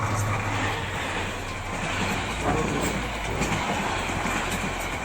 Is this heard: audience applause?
no